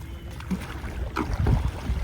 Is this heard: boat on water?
yes